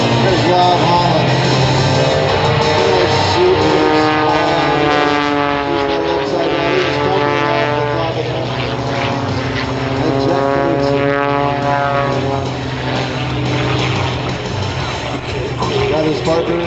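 An Extra 300 aerobatic propeller plane roars continuously and loudly at a 2010 air show in Pittsburgh, its engine pitch rising and falling through maneuvers while an announcer talks over it.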